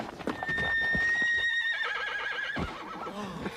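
A horse whinnies in a rising and falling neigh of about a second and a half, close and loud, over hoof clops and shuffling in a ranch setting, with a second shorter whinny toward the end.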